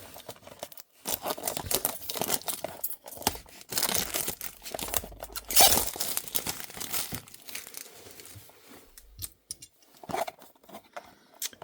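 The plastic packaging of a boxed Toyota Hiace 2010 diecast model crinkles and crackles in irregular bursts as it is handled up close, with short pauses between the rustles and no voices.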